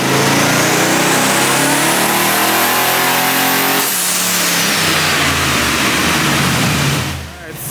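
A twin-turbo LS engine in an all-wheel-drive Syclone truck revs hard on a dyno pull, climbing loudly in pitch for several seconds, then easing off into a lower roar and tapering down at the end.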